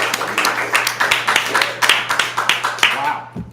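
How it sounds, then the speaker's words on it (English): Steady clapping from a small group, crisp and close, fading out at the end. "let's give a round of applause for this amazing event."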